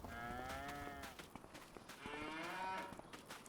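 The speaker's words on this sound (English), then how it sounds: "I just run through the cows here." Cattle mooing in the Farming Simulator 25 farm game, two long drawn-out moos with clear harmonic tones, close and loud, one after another with a short gap between them and no talk.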